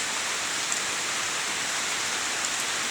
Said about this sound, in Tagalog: puro ulan